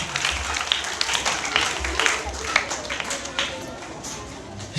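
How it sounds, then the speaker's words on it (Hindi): Children at a primary-school Hindi quiz clap for a student who answered correctly. The applause is scattered and moderately loud, with some voices mixed in, and it thins out toward the end. "तन्मय के लिए एक बार जोरदार तालियां बजा दीजिए।"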